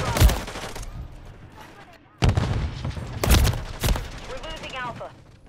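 Bursts of gunfire in a Call of Duty match, sharp volleys loud and close, with rapid automatic fire breaking out in separate clusters across the stretch and short gaps of quieter battle noise between them.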